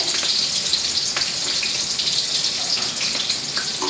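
Onions and green chillies fry in hot oil for potato dal, a loud, close, continuous crackling sizzle with scattered pops and no talking.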